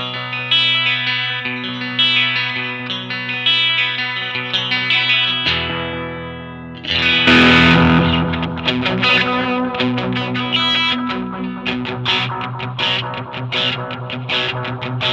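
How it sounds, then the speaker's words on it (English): Electric guitar played through an Ammoon Pockmon multi-effects unit on an overdrive setting: sustained chords ring out, then after a brief drop a denser, brighter run of strummed and picked notes follows, loud and close with no talking. "It's a very usable overdrive."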